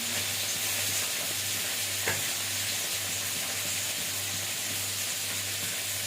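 Food sizzles steadily in a pan as it is stir-fried with salt and turmeric in a home kitchen, a constant close hiss with one brief scrape of the utensil.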